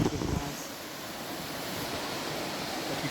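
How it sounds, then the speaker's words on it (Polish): Small stream flowing in the Irish countryside, a steady broadband rush of water heard close and continuous, with a brief rustle at the start. "Mamy taki kolejny piękny strumyk"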